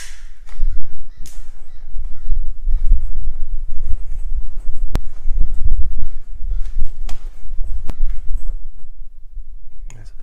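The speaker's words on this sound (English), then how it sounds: "I can hear crows outside." Crows caw faintly in the distance outside, partly buried under loud, close rumbling and handling noises with a few sharp clicks, in Aokigahara forest, Japan.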